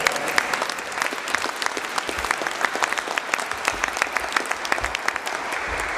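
An audience claps steadily at a talk, a dense continuous patter of many hands at moderate distance, holding even for several seconds with no voices over it.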